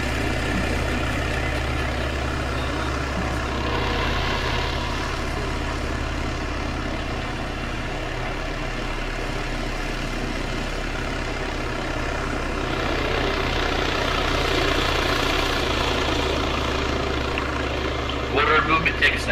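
A military helicopter draws in about 300 meters out, a steady droning rotor and engine rumble that holds throughout and swells slightly toward the end, under a low background of movement and occasional voices.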